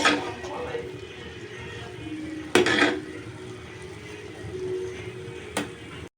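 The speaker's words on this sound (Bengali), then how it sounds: "তো আমি খুব ভালোভাবে উল্টিয়ে পাল্টিয়ে শাকগুলোকে মিক্স করে নেব।" Fried radish greens with prawns are stirred in a pan, with soft scraping and light sizzling, and two sharp metallic clanks of a utensil striking the pan stand out.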